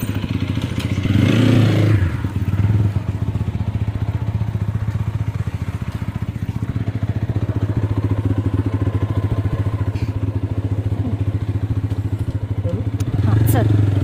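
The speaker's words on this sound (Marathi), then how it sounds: "काढ गाडी, बाईक घेतोय मी." A motorbike ridden through rainy weather, its engine droning steadily and close throughout with louder rumbling surges near the start and end, while people talk over the ride.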